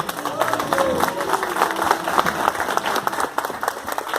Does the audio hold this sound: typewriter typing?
no